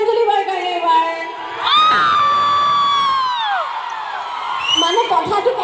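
College crowd at a girls' college golden jubilee event whooping and screaming for a singer, a loud swell of shrill cheers rising and fading, mixed with a voice over the sound system.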